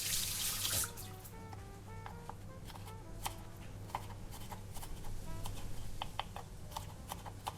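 Kale is rinsed under a running kitchen tap: a steady, close rush of water into a sink with a louder burst at the start, dotted with small clicks and splashes.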